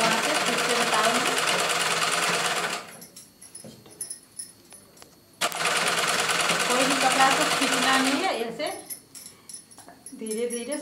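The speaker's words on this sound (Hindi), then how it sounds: "धीरे धीरे स्लो में ही सिलाई लगाना है" A sewing machine stitches cloth slowly in two long, loud, steady runs, with someone speaking in the pause between them and again as the second run ends.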